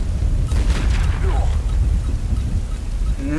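A grenade explosion in the Tomb Raider Underworld video game, set in Southern Mexico, booms low and heavy, with a rumbling tail lasting several seconds and a brief bird-like call near the end.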